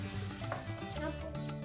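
Chopped tomatoes stirred in a sizzling pan, a steady frying hiss with soft scraping strokes throughout, close and moderately loud.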